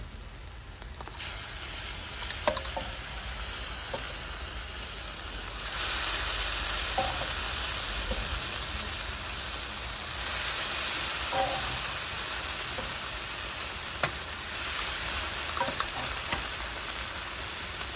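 Eggs for a dhaba-style tarka dal fry in a pan over a clay stove, giving a steady close sizzle and hiss with scattered stirring scrapes and clinks throughout, no talking.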